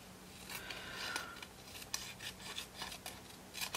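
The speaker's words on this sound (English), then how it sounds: "I'll just cut this little V-neck out here" Scissors snipping a V-shaped notch out of a paper shape, a run of short, crisp cuts and soft paper rustles at close range with no talking.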